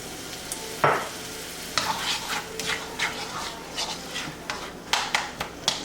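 A little soy sauce goes into rice frying in a pan. Bright sizzling runs throughout, punctuated by a sharp hit and then a string of rhythmic stirring scrapes and taps, close and fairly loud, with no talking.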